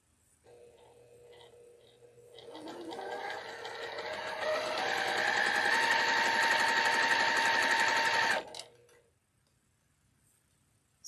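Sewing machine stitching Dresden sunflower quilt pieces: a steady electric motor whir revs up and holds at high speed for about six seconds, then cuts off abruptly, with brief quiet before and after.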